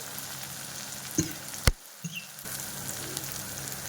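Tomatoes and onions sauté in a pan with a steady close sizzle, and a few sharp stirring knocks cut through a brief dip partway along.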